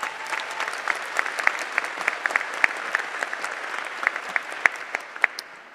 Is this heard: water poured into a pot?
no